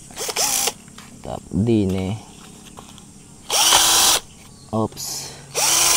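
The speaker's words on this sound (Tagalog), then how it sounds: "So gagawin ko ay bubutasan ko muna." A power drill bores a hole into wood before plywood is fixed in place, with several short bursts of high whining motor noise separated by pauses, close and loud, while someone talks between bursts.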